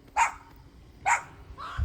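Village dogs bark outdoors, with two sharp, mid-distance barks about a second apart and a softer third bark trailing at the end, over quiet background.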